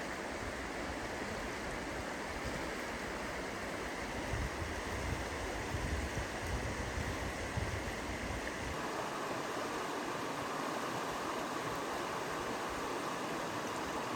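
Panther Creek runs steadily at a campground in Gifford Pinchot National Forest, a continuous broadband rush of flowing water close by, its low rumble thinning slightly partway through, with no voices.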